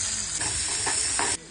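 Green chilies frying in hot oil with garlic, mustard seeds, cumin, asafoetida and turmeric, a steady close sizzle broken by a few stirring scrapes, cutting off abruptly near the end.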